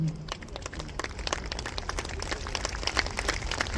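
An audience at the Gujarat Chamber of Commerce annual members' meeting at Karnavati Club, Ahmedabad, claps during the felicitation of a BAPS leader: a brisk patter of close, distinct hand claps that builds near the end.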